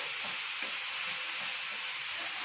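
Raw banana pieces fry in a pan with a steady, close hiss of oil, while soft stirring scrapes and shuffles pulse gently underneath throughout.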